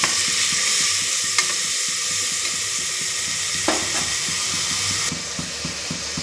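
Tomato pieces sizzle and fry loudly in a hot pan while a pigeon pea pod curry is prepared, a steady close hiss with occasional stirring scrapes throughout.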